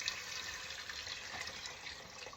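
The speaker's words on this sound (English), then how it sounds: "all that needs to go in now is the 500 ml of water" Onion-boiling water, about 500 ml, is poured into a pot of chicken madras, a soft continuous splashing and trickling at close range.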